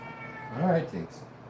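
A cat gives a single short meow close by indoors, rising then falling, followed by a brief second chirp-like note over quiet room noise.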